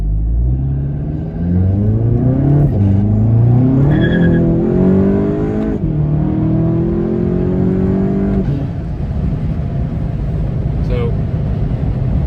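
A car with an aftermarket exhaust and 7-speed DSG revs up through rising gear pulls with a throaty, slightly raspy exhaust note, loud and close, with a voice talking over it.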